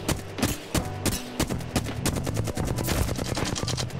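Flatline assault rifle fired from the hip in Apex Legends, heard as rapid automatic bursts of gunshots in a steady rhythm with brief gaps between strings, loud and close.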